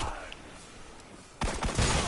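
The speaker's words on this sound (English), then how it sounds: "I'm literally shooting at these guys, and they can just not only dodge every one of my shots" Video game pulse rifle gunfire from a Häkke Lydmila-D, starting as a faint distant patter and then breaking into a loud, close burst of rapid shots near the end, with no talk over it.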